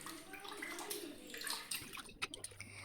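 Water splashing and sloshing in a bowl as soaked lentils are rinsed by hand, a steady close wash with a few louder gurgles near the end.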